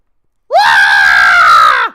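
A human voice imitates a manga character screaming, a single loud, sustained shriek that rises sharply, holds for over a second and then cuts off.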